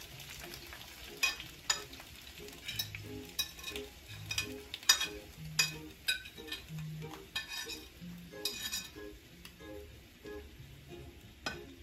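Seasoning fried in hot oil in a pot for Jamaican-style jack tin mackerel, with a steady sizzle and crackle under repeated stirring scrapes and light utensil knocks, close by and moderately loud.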